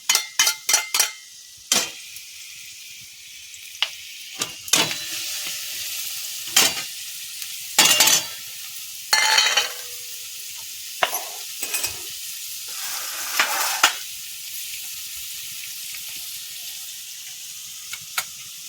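Onion chopped and tossed into oil in a pan for pitla, with sharp bursts of sizzling and clattering stirs against a quiet background, the bursts scattered unevenly.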